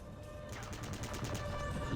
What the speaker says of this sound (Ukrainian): Давайте Пітером постріляємось.